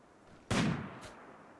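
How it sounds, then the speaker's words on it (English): Sniper rifle shots fired at a lynx in the video game Rimworld, with one sharp, loud gunshot followed by a quicker, fainter second report, both short with little tail. "The first shots with the sniper rifle go wide though"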